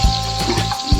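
Fish lowered into hot oil in a home kitchen crackles with a loud, close, continuous sizzle and bubbling for a brief moment.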